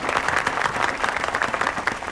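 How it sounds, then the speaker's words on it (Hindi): Audience applause in a film scene, a short burst of dense clapping from a crowd, steady and fairly close. "तालियां!"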